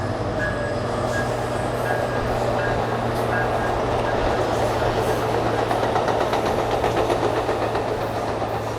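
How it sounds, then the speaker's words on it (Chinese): A double-decker scenic passenger train rolls past along the coast in San Clemente, its steady engine rumble and rail clatter filling the whole stretch, loud and close with no talk. "这是双层的景观列车"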